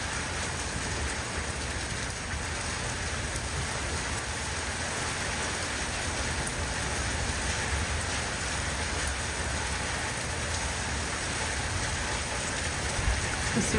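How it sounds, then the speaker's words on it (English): Rain pouring in a garden by bougainvillea and a lattice, a constant close, even hiss of drops on leaves and surfaces, steady for the whole stretch with no voices. "I think the rain will come right at me."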